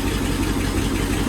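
A CJ5 Jeep engine idling just after starting, a loud, close, steady low rumble with an even mechanical pulse and no other sounds.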